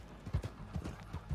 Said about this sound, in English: You can get on a damn mule and ride it around